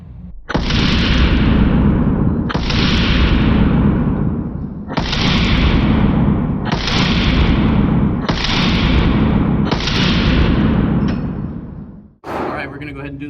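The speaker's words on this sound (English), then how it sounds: "Now we're going to go ahead and do the 115s with the Staccato XC, see how that feels." A Staccato XC pistol firing 115 grain ammunition fires six loud, sharp shots at a steady pace of roughly two seconds apart at an outdoor range, each with a ringing decay, followed by a brief burst of talk.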